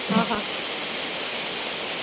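Steady, close rain pours down outside, a dense continuous patter with a brief voice at the start.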